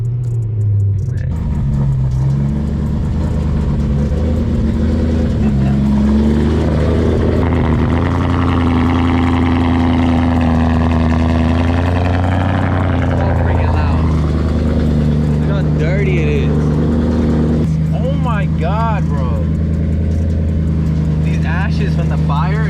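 BMW E92 car engine running steadily and loudly throughout, with a deep sustained drone and shifting revs, while someone talks over it.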